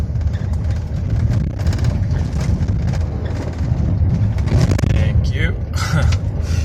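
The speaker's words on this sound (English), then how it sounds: "And road train means large truck, kind of like the one that's coming up ahead of me right now." A road train truck passes on an Australian single-lane highway, its heavy engine roar building and fading over constant road and wind noise while someone talks.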